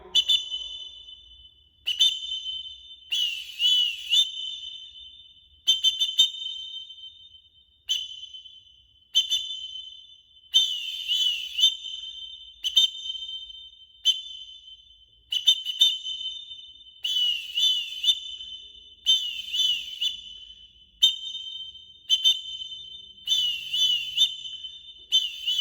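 A whistle blows over and over for a movement direction challenge, short toots mixed with longer trilling blasts in a steady quick pattern, loud and close, no talking.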